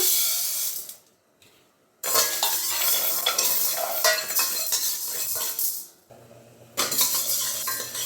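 Sago pearls roast in a pan for poppy seed payasa, stirred with a spoon that scrapes and rattles against the metal, loud bursts broken by two short quiet gaps.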